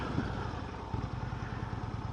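A Harley-Davidson Sportster motorcycle engine idles nearby with a steady low, lumpy rumble and irregular throbbing pulses, holding at a constant level for the whole stretch.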